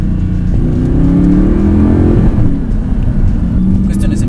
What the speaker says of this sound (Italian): Lo scarico non suona male